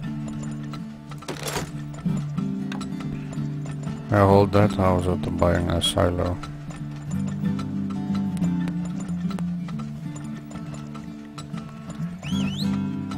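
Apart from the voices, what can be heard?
horses in the video game Turmoil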